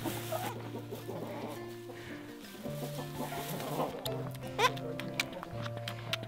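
Hens cluck and murmur close by in repeated short calls, with some rustling and a few sharp clicks toward the end.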